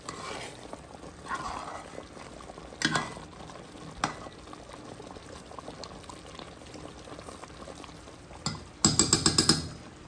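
Chicken dakatine cooking gently in a pot, a soft, steady bubbling and simmer with occasional stirring clatter and a louder burst of spoon-and-pot scraping near the end, no talk.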